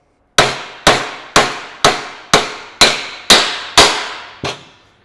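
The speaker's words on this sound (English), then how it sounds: "even using just a little ball peen hammer or a little beefy hammer" Small ball peen hammer striking a U-joint cap on a chromoly axle shaft, nine sharp metallic blows at an even pace, close and loud, each ringing briefly before the next.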